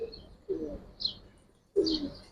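Giribaj pigeons of the Bagha and Silver types give soft, low cooing calls in three or four short bursts, close by, with brief quiet gaps between them.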